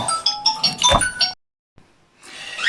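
A doorbell chimes in the first second and a half, a bright ringing tone over clattering and background noise, then a short silence and a faint thud before noise returns.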